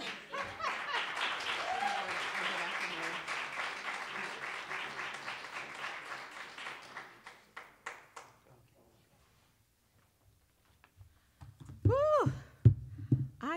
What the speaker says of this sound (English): would you put your hands together and receive our host for this evening